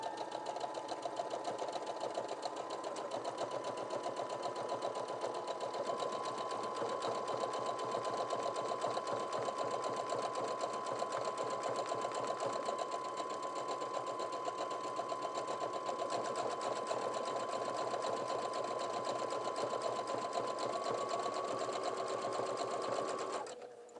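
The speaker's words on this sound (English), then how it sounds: "I've set my machine for a buttonhole stitch. I'm going to lower the buttonhole lever here and make sure it's in back of the white tab on the buttonhole foot, and I'm going to begin sewing." A sewing machine stitches a buttonhole with its buttonhole lever lowered, running as a steady, even mechanical whir for about twenty seconds before stopping.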